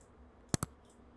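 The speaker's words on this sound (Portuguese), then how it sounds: "E aí eu vou dando os cliques aqui para tirar um pouquinho dessa parte clara." A computer mouse gives two quick, sharp clicks close together near the middle, in a quiet room while working in Photoshop.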